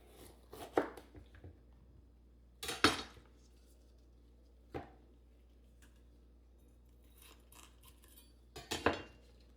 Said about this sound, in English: let's cut up the peppers